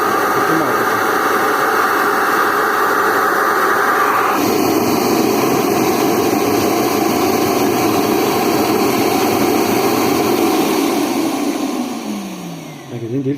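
A Roidmi EVE Plus robot vacuum's suction motor runs with a loud, steady whine that shifts pitch partway through, then winds down near the end, with no talk over it.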